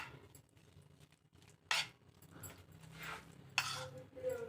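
A spoon stirring food in a bowl for a breakfast dish, faint scraping with a few sharp clinks of metal against the bowl, quiet and close, with light speech in the background.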